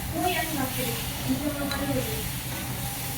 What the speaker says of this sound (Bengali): দেখো মাংস কি সুন্দরভাবে বলক পাচ্ছে।